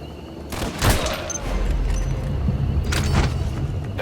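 Gunfire rings out in the stealth action game Metal Gear Solid V: The Phantom Pain, with two loud bursts of shots over a low, rumbling background.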